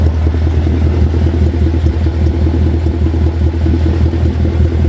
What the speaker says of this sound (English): an open header M156 C63. And at idle, it's really not all that bad